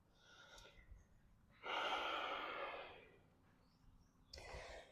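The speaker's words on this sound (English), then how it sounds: "Sometimes I breathe a little louder just so that you can hear." Slow, heavy breathing up close during a vinyasa yoga flow: a deep audible inhale, a long loud exhale, then another breath starting.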